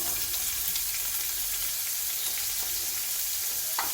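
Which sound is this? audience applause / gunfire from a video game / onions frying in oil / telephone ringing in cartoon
onions frying in oil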